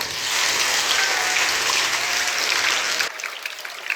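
A room of school students claps together in a dense, steady round of applause that cuts off sharply after about three seconds, leaving scattered faint claps.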